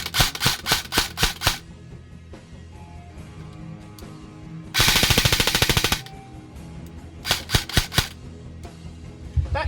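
A gun fires in semi-automatic mode, loud close shots in quick groups, then a longer dense rattling burst, then another group of sharp shots.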